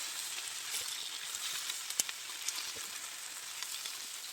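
Onions and forest mushrooms sizzle steadily in a frying pan, a soft continuous crackling hiss with occasional small pops, quiet and close with no talking.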